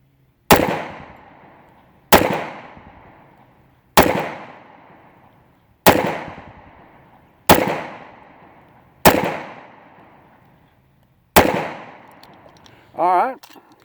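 Seven sharp, loud gunshots from a Kimber Ultra Carry II compact 1911 .45 pistol fire at a steady pace at an outdoor range, each crack ringing out briefly, with a short burst of voice at the end.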